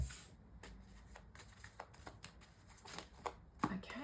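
Tarot cards being shuffled by hand, a close, quiet series of rapid riffling flutters and soft slaps in uneven bursts, with no talking.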